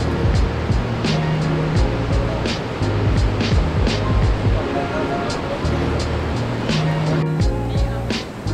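Niagara Falls roars as a continuous, loud, broad rush of falling water, steady throughout, with some intermittent tonal sounds mixed in over it.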